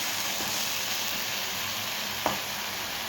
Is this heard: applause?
no